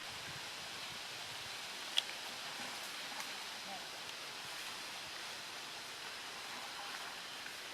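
A brook trout stream in Minnesota flows steadily in a broad, even rush of water, continuous and moderately close, with no distinct splashes and faint voices barely present underneath.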